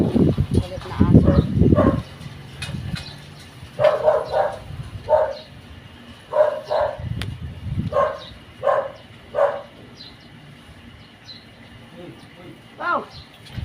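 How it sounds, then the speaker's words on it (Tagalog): An angry dog barks in repeated short bursts, mostly in pairs and triplets with brief pauses, fairly close and loud, while a person talks over the first couple of seconds. "Galit na aso."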